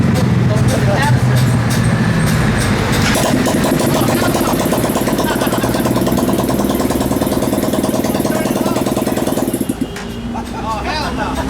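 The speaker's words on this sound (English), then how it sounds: "curious what this thing sounds like without an exhaust on it at all" Motorcycle engine running with no exhaust pipe fitted, a loud, raw, steady idle that fills the whole clip and drops slightly in level near the end, with people talking over it.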